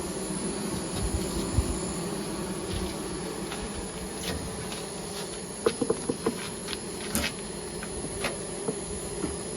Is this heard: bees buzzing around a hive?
yes